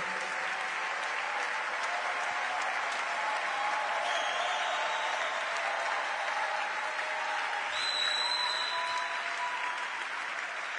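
A large church congregation applauds and cheers steadily during a worship service, a dense wash of clapping and shouting that holds at full loudness throughout.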